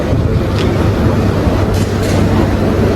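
A Bengaluru metro train rumbles loudly and continuously nearby, a dense low roar with faint rattling and occasional hissing bursts.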